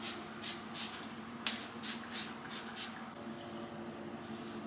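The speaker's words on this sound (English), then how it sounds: "I always use this Restore and Refresh Growth Bomb like spray because it just smells so good" A hair spray bottle of peppermint hair product mists in a quick series of short, soft hissing bursts, close but quiet, about eight spritzes in a row.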